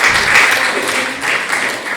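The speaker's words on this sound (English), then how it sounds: "So give Don a round of applause." Audience applauding at a concert event, a steady wash of many hands clapping at close range, sustained and fairly loud throughout without pause.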